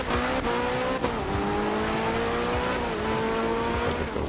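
All-wheel-drive race car sliding and spinning on gravel in a racing video game, engine droning with shifting pitch under loud continuous tire scrub and skidding, with no talk.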